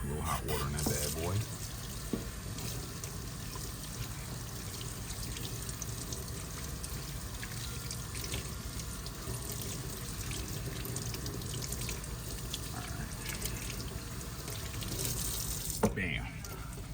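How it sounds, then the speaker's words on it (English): Hot tap water runs steadily into a kitchen sink while hands are washed, a soft continuous splashing rush that stays fairly quiet throughout, with a brief clatter near the end. "Put a little hot water in that bad boy."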